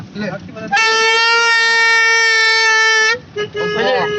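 A loud, steady manual vehicle horn blares for about two seconds, rich and brassy, with voices and background noise just before and after, near Kalasa and Horanadu.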